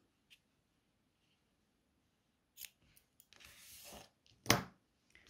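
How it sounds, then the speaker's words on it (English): Scissors snip through crocheted yarn tassels on an amigurumi snowman's scarf, giving a few quiet, separate cuts with a brief rustle of yarn, then one louder, sharper snip near the end. "Now you can trim your tassels to whatever length you want them to be."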